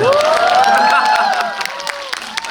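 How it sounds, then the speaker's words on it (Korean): Audience at a Korean film stage talk event cheers with loud, high shouts and whoops close by, then thins into scattered claps and calls. "저한테 박수 좀 주세요."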